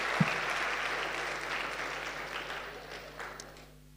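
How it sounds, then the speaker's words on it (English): A crowd claps steadily for a few seconds, a dense patter of applause that slowly fades toward the end. "Clap louder."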